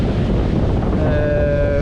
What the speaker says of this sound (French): Bon, il y a pas mal de vent, hein.